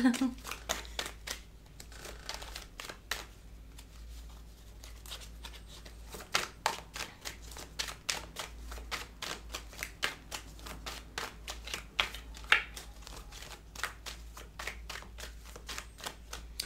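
Tarot cards shuffled and laid down by hand, producing a rapid train of crisp riffling flicks and soft slaps throughout, close and fairly quiet, with someone talking over much of it.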